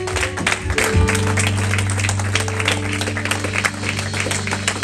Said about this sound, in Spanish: démosle fuerte un aplauso a Él.